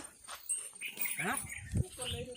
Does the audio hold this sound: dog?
yes